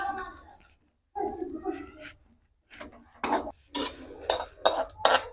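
Spices and ajwain being dry-roasted and stirred in a pan on a village stove, with scraping and clinking of a spoon against the metal in bursts, louder toward the end, with brief gaps.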